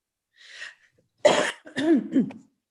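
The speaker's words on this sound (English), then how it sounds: "I apologize for coughing" A breath, then a couple of harsh, close coughs followed by a throaty, rasping cough during a historic preservation commission meeting, fairly loud against quiet.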